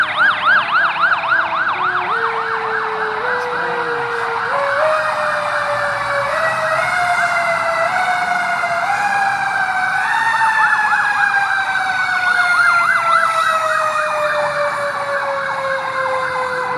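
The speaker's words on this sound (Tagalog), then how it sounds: "Ayan po, may bumbero na naman oh." Fire truck sirens wail at a large fire on Visayas Avenue, Barangay Culiat, Quezon City, rising and falling in loud overlapping sweeps that shift in pitch as the trucks pass close by, with no talking over them.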